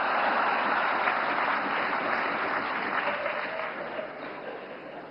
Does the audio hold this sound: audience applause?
yes